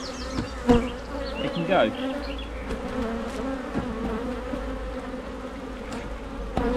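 A swarm of honeybees hums steadily around a hive, a dense continuous buzz close by with individual bees droning past, and a brief spoken word near the start.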